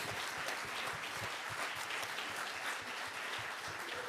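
Closing-event audience applauding the AV crew who handled sound, video and live streams: a dense, even wash of many hands clapping, steady and sustained, with no speech.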